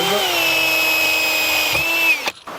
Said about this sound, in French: là on va pouvoir visser les 2 panneaux entre eux